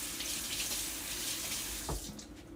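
Kitchen faucet running water into a sink, a steady close splashing stream with a brief knock partway through.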